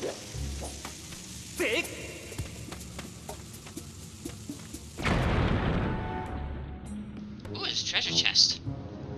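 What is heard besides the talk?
bomb fuse and explosion in video game Zelda: Skyward Sword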